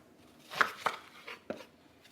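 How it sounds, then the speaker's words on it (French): A knife chops through bacon into thick lardons on a board, four or five separate crisp strokes spaced unevenly over a couple of seconds, close and fairly quiet with no talk. "En gros, je vais faire des gros lardons."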